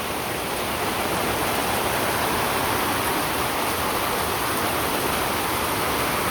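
Heavy rain pours down in a dense, unbroken roar that stays loud and even throughout, with no voices over it.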